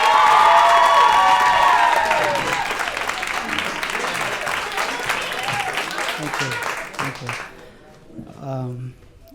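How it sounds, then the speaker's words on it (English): An audience claps and cheers loudly, with whoops and shouts, the applause gradually thinning out as a voice begins speaking near the end. "Well, okay, you guys, start clapping for Mukhtar Essa."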